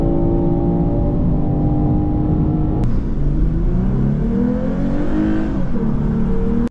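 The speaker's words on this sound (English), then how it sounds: "I love the sound of these naturally aspirated V6 and V8 engines" A Lexus IS with a naturally aspirated V6 or V8 revs loudly and close up, holding a steady tone before the pitch climbs and sweeps upward in a rising rev.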